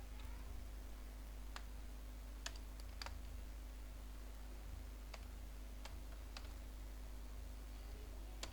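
Sparse keystrokes on a computer keyboard while writing HTML in Notepad, isolated clicks spaced irregularly, faint against a steady electrical hum.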